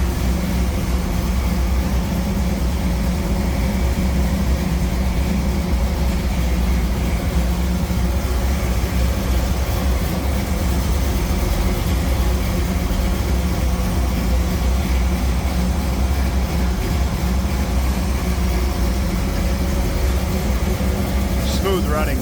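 A 1956 Chevrolet 3100 Stepside pickup engine idles smoothly and steadily up close with the hood open, its even rumble continuous throughout.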